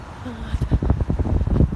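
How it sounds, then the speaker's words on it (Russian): Strong, cold wind buffeting the microphone on a waterside walk among ducks, gulls and swans, with irregular low rumbling gusts throughout and a voice talking over it. "Холод, очень сильный ветер. Прям сдувает."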